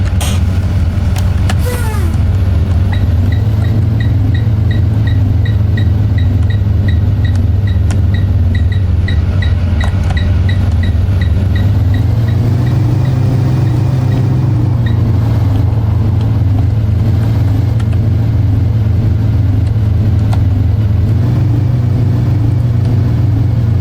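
A loaded school bus rumbles along with a steady low engine drone, its pitch rising slightly as it accelerates, with faint repeated ticking from the flashing lights and no voices.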